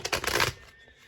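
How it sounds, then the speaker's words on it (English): A Modern Witch Tarot deck is shuffled up close, a quick flurry of papery card riffles lasting about half a second before fading to quiet. "I'm going to go ahead and begin shuffling."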